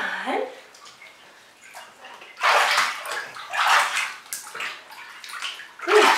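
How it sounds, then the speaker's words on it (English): Water sloshing and splashing in a bathtub while a Maine Coon cat is bathed, bursts of splashing in several waves with quieter dripping gaps between, close by, with brief talk at the start. "splash the water again like I did in the beginning"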